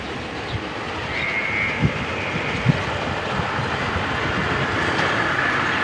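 A running borewell pump gives a steady, loud mechanical hum with a continuous wash of noise and a few faint knocks, and no voices are heard.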